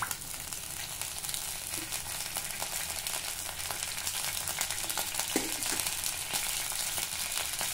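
Mustard seeds splutter and crackle in hot oil for a tomato chutney, a steady frying hiss studded with irregular sharp pops, close and continuous with no talking.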